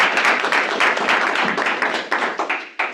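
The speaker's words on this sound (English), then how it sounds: "let's give a round of applause for putting that" A meeting audience breaks into lively applause of many hands clapping together, loud and dense at first and then thinning into scattered, separate claps toward the end.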